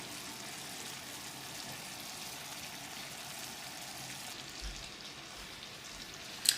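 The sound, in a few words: hard candy sugar syrup cooking in a pan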